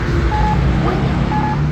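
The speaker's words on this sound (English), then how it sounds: "This one barely beeps." A crosswalk push button at a street corner gives brief, faint tonal beeps, two short chirps roughly a second apart, over steady traffic rumble.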